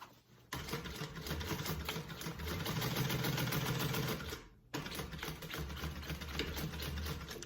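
Sewing machine stitching a range bag runs steadily and close, with a continuous mechanical whir that cuts out briefly mid-way and then starts again, and no voices.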